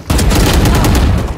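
Rapid gunfire from a Valorant match on PC, a loud, dense burst of repeated shots rattling almost continuously for over a second, close and dominant.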